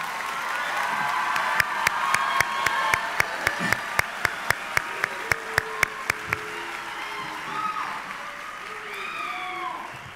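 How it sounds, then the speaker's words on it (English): At a high school commencement ceremony, a crowd applauds and cheers for graduates, with sustained clapping, a run of sharp louder claps standing out, and whoops and shouts rising over the applause. "please join me in a round of applause for these amazing graduates"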